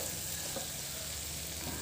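Squid roast (koonthal) being stirred in a pan on the stove, a steady close sizzle of frying with soft scraping stir strokes running throughout, no talking.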